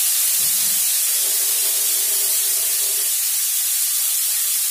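Potatoes frying with black cumin in a pan, a loud, steady hissing sizzle that fills the whole stretch, with a brief low stirring rumble near the start.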